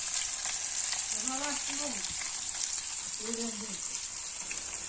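Constant crackling sizzle of fish frying in a pan over an open fire, close and steady, with faint voices murmuring briefly underneath.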